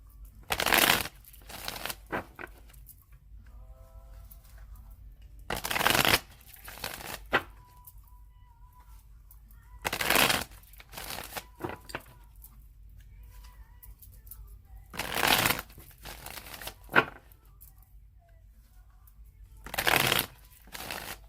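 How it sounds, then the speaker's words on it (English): Tarot card deck shuffled by hand in repeated bursts, about five crisp close riffles spaced a few seconds apart, with quiet pauses between them. "I'm going to shuffle it 3 more times"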